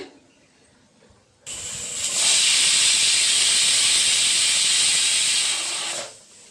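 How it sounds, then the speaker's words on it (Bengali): A pressure cooker boiling taro and potatoes vents steam in one loud, continuous hiss that starts abruptly, holds steady for about five seconds up close, then cuts off, with a quieter background before and after and no voices. "আমার কচু আলুটা সিদ্ধ হয়ে গেছে এখন আমি কুকারটা নামিয়ে রাখবো"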